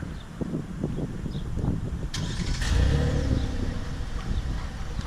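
A Hyundai Palisade Ultimate engine starts by remote start, a quiet crank followed by a low, smooth idle rumble that swells slightly and settles, near and subdued, with a brief click beforehand.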